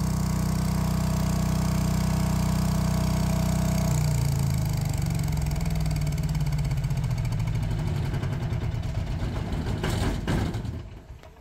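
Philking PK12000STRA diesel generator engine running steadily and loud, its low hum dropping in pitch and winding down to silence near the end as it shuts off.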